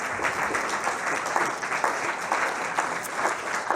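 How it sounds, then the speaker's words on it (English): Warm audience applause at a youth gathering, steady and evenly dense throughout, a close crowd clapping without pause. "give her a warm applause"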